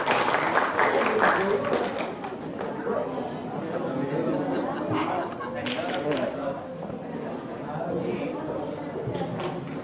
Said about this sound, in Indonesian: Boleh tepuk tangan dong buat teman-temannya